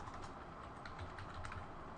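Quick bursts of typing on a computer keyboard, close and faint, a run of light clicking keystrokes with no talking.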